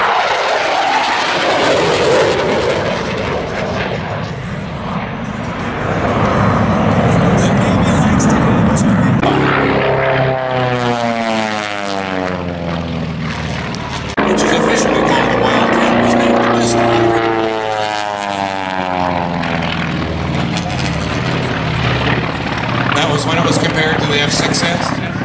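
A propeller warbird, an AT-6 among formation aircraft, drones loudly overhead at the Sun N Fun 2012 airshow, its engine roar rising and falling with pitch sweeps as planes pass, under a steady announcer's voice.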